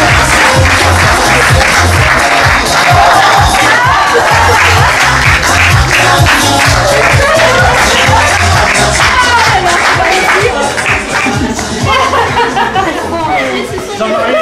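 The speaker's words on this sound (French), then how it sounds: "Je vous demande d'applaudir fortement deux invités exceptionnels." A theatre audience gives dense, sustained applause for arriving guests, loud and close, with chatter and some laughter mixed into the clapping.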